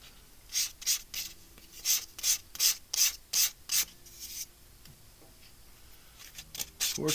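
Hand sanding on a spinning wood turning, a run of about eight loud, rhythmic rubbing strokes up close, then a pause and a few softer strokes at the end.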